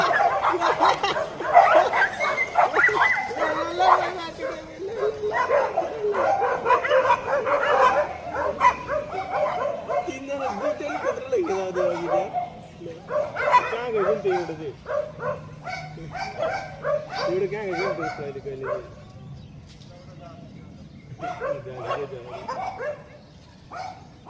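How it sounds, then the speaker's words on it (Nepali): Several dogs snarl, yip and bark in a chaotic scuffle, growls and whimpers overlapping loudly and close by, with brief human voices in the background. "ग्याङ फाइट हुँदैछ यहाँ कुकुरको।"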